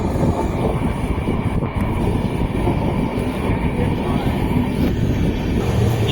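Ashokapuram Express train rolling along, heard from inside an air-conditioned coach as a loud, steady rumble with constant mechanical noise and faint talk.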